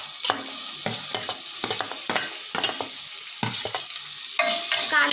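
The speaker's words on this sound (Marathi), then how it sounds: "कांदा पण छान परतून घ्यायचा" Chopped onion with ginger garlic paste and a pinch of asafoetida sautéing in a pan, a steady sizzle punctuated by repeated rhythmic spatula scrapes and knocks, close up, growing slightly louder near the end, no voices.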